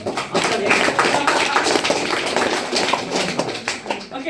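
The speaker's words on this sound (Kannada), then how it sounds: "ಓಕೆ, ಜೋರಾಗಿ ಚಪ್ಪಾಳೆ." Loud applause from an audience at a Kannada motivational talk for students and parents, a dense steady patter of many hands clapping for several seconds without pause.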